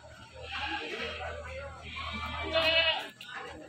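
Goats bleating among the stock at a busy village goat market in Kebumen, several animal cries rising over continuous crowd chatter and people talking nearby, loudest near the end.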